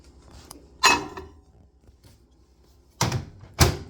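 A microwave door in a home kitchen, used while making chocolate Nutella bread, gives one sharp clunk, then after a pause two more quick knocks close together, near and fairly loud against a quiet room.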